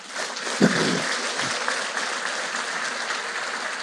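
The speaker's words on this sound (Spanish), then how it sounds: "Dale un aplauso a Jesús." Steady church congregation applause fills the space, a dense even clatter of many hands clapping with a few louder bursts near the start.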